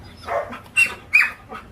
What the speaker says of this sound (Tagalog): Bakit ka ba kahol ng kahol?